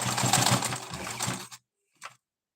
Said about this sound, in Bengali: এটা মেশিনে সেলাই করতে হচ্ছে